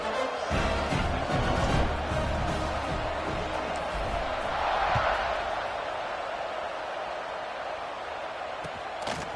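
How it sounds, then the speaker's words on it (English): A college football stadium crowd roars in a sustained, distant wash before kickoff at a USC game, with scattered cheers and a commentator's voice faintly over it. "They're set to kick it off, and this crowd now ready to get behind them."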